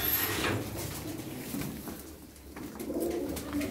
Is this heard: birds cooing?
yes